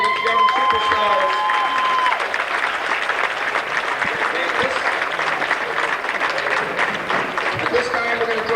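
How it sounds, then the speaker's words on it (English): A gym crowd gives young basketball players a round of applause, with loud, steady clapping and scattered cheers lasting throughout and voices mixed into the noise. "Let's have a round of applause for all these young superstars."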